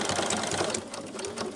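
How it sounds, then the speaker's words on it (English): A sewing machine runs steadily while backstitching quilt fabric for an advent calendar, giving a close, continuous rapid whirring and clatter of stitching throughout. "when I get to this corner, I'm going to backstitch."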